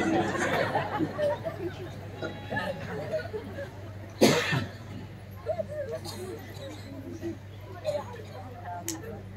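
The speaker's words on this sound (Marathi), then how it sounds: "हसू हसू खोकली लागली बायाला" A woman coughs after laughing during a Ram katha discourse, one sharp cough burst standing out amid a murmuring crowd and ongoing chatter, moderately near.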